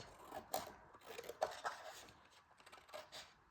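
Scissors slicing through a 12x12 sheet of paper, quiet crisp snips repeating in short irregular bursts, close up with no talking.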